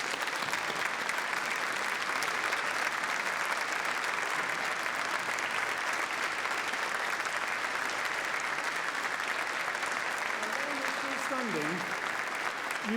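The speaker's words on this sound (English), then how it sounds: "let's give them all together a round of applause for all they've done" A graduation ceremony audience at the University of Manchester gives a sustained round of applause, dense and steady clapping filling the hall throughout, with a faint voice rising briefly near the end.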